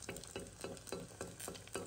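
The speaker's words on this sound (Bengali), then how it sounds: "ডালপুরিটা যে এরকম ঠিক তেলটা উপরে এইভাবে দিয়ে দিয়ে ভাজতে হয়, তাহলে কিন্তু ফুলে যায়।" Dal puri frying in hot oil as oil is spooned over the top, a steady bubbling sizzle with regular soft scooping pulses about every third of a second, close and fairly quiet with no talking.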